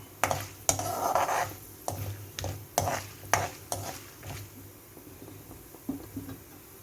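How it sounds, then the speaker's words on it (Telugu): Peanuts roast in a pan while wheat rava upma is cooked: irregular sharp pops and crackles rise over a soft, steady sizzle, along with light stirring scrapes, close up and with no voices. "పల్లీలు చూడండి ఇలాగా పగులుతాయి కదా"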